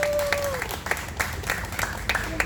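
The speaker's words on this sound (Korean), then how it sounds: "다시 한번 박수 부탁드립니다" A crowd claps steadily at a Korean outdoor protest rally in sparse, scattered bursts, fairly near, while a faint tone sounds at the start.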